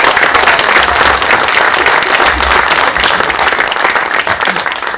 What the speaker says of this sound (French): oui, on peut applaudir, hein, vas-y.